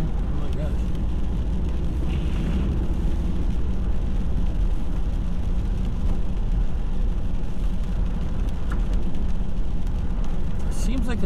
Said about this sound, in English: One thing it's doing is raining